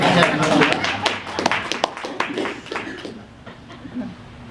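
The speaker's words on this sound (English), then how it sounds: "That deserves a round of applause for us." A meeting audience gives a short round of scattered, moderate clapping that fades out, with a voice speaking over the tail end.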